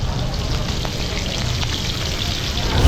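Hilsa fish fry in hot oil at a riverside eatery on the Padma bank at Mawa, a close, steady sizzle and crackle running continuously, rising slightly at the end.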